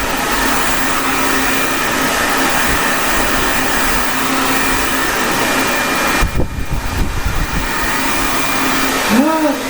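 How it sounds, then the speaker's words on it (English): A hair dryer blowing hair into a late-1970s shag cut, a loud continuous whooshing drone that holds steady close to the mic, with brief handling bumps near the end. "It's gonna take you a while to blow dry."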